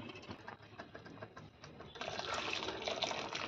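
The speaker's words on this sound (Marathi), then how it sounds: "हे शिजलेलं डाळीचं पाणी आणि ही सगळी डाळ आता ह्या आमटीमध्ये ओतून घ्यायची" Cooked dal and its cooking water are poured into a spicy Pandharpur-style bazaar amti, a steady wet pouring and splashing rush that grows fuller and louder partway through, with no talking.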